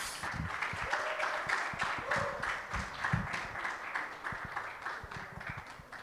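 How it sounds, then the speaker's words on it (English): Audience clapping at a graduation ceremony for an e-trades program, steady dense applause filling the room throughout, with a faint voice briefly heard underneath. "I want you to really bask in the clapping. Keep clapping."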